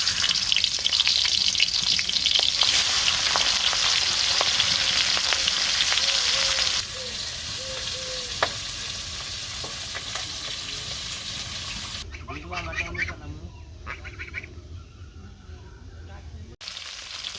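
Fish head sizzles loudly in hot oil in a pan, a dense steady crackle that drops in level partway through, then continues more quietly with stirring clatter.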